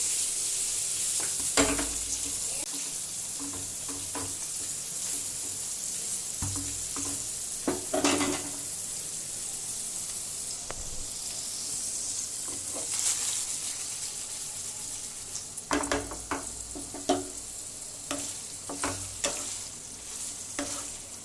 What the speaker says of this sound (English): now I'm going to put all my paneer cubes in it and going to shallow fry it for a few minutes until they turn golden brown